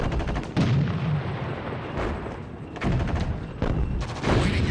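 Gunfire in the World War II strategy game Sudden Strike 2, heavy booming shots and bursts landing in clusters, several loud sharp blasts with rumbling tails in a busy battle mix.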